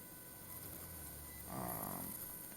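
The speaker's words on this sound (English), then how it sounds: "If you hear snoring in the back" A man snores in the background, one faint nasal rasp rising and fading in the middle of a quiet room hum.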